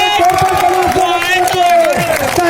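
Loud crowd cheering and applause at a tournament prize announcement in Salepali, with scattered clapping, whoops and a steady roar of voices throughout.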